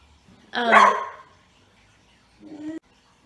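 A household dog barks indoors, giving one loud close bark followed a couple of seconds later by a shorter, softer second bark.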